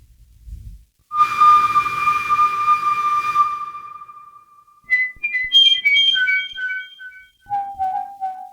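A whistle sound effect plays: a long, clear, steady whistled tone, then a quick run of short chirping notes with reverb, and a final lower sustained note, with no talking.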